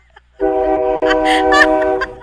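A train passes close by outside a window: a loud, sustained horn blast with stacked steady tones lasts nearly two seconds, with rumbling and clattering underneath.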